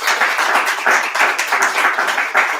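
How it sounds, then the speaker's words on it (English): Applause from an audience at a poetry reading night, a close, lively patter of many hands clapping in uneven surges that keeps going throughout. "I want a round of applause for Laura Kozy Lanik,"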